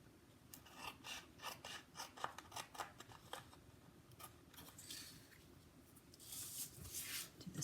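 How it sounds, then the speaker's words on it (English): Scissors snip scrapbook paper along a score line for a DIY gift bag, with a run of close, crisp cutting strokes followed by softer rustling of the paper. "I'm going to snip up from the bottom on my score line to this other score line"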